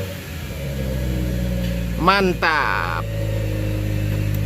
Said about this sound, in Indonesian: Suara-suara knalpot di belakang.